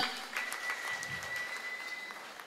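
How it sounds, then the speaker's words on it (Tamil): Faint, thin applause from an audience for children who danced at a local event, sparse claps spread across the moment with a steady tone humming in the background. "இங்க நடனம் ஆடின அந்த குழந்தைகளுக்கெல்லாம் ஒரு பெரிய கைத்தட்டை கொடுங்க"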